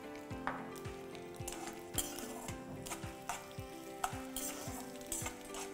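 Chilies and lentils fry in a pan with asafoetida, giving a steady sizzle broken by regular scraping strokes of a spatula and occasional metallic clinks, close and alone with no voices.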